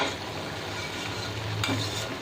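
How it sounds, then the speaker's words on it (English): Butter going into a hot pan of small brinjal and potatoes, a steady close sizzle with stirring scrapes throughout and a brighter crackle near the end, no talking. "now I will put some butter."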